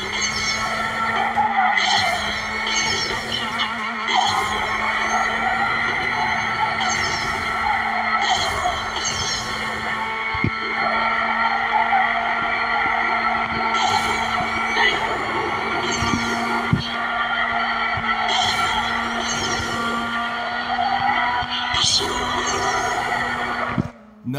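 Racing cars in the game Need for Speed No Limits, a steady high-pitched engine drone with repeated tire squeals and skids throughout a timed race, loud and continuous with no talking.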